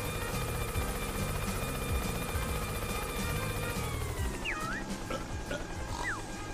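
A character in Yooka-Laylee flies as a helicopter, a steady whirring drone that holds throughout under faint game sounds, with a few short sweeping tones near the end.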